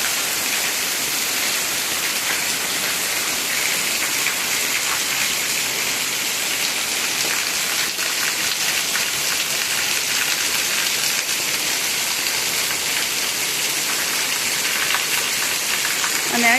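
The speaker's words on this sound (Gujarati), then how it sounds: "કોના કોના ગામમાં આવો વરસાદ છે જરા કોમેન્ટ કરીને જણાવી દેજો." Heavy rain pours on a Gujarati village farm after two days of nonstop downpour, a dense, constant, loud hiss that stays even and unbroken throughout.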